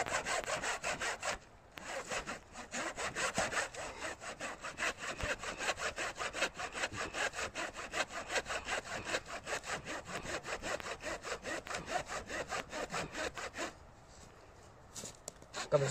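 A hand saw rasps through a tree trunk in steady, rapid back-and-forth strokes, loud and close, with a brief pause near the start and the cutting thinning out toward the end.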